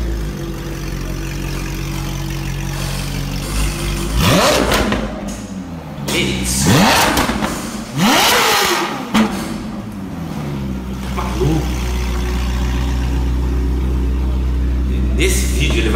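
Ferrari sports car engine heard up close, a steady low idle broken by several sharp revs and pitch sweeps in the middle, with a voice talking over parts of it.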